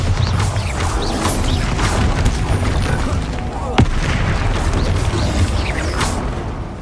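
Bombarda spell explosions in Hogwarts Legacy gameplay, a dense barrage of booming blasts and crashing impacts over low rumbling, with one sharp crack standing out midway.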